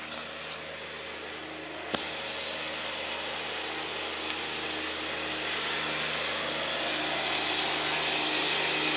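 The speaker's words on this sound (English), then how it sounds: "The mower guy's back." A lawn mower drones steadily nearby, a continuous broadband motor hum with a single sharp click early on, gradually swelling slightly louder toward the end.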